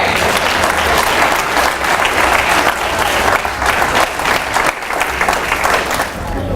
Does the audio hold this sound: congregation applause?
yes